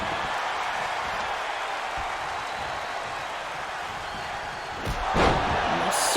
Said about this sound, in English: Slamming him against the mat.